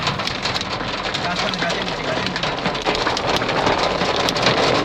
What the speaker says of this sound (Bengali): শুরু হলো মুষলধারে বৃষ্টি এবং তার সাথে বড় বড় শিল।